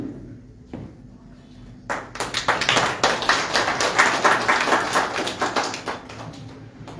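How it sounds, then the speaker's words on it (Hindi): Members of a community gathering clap to honour a guest at a magazine launch in a library, a quiet stretch with a single tap giving way to dense, sustained applause from a small group. "सभी बाकी मेंबर जो है वो तालियां बजाएंगे"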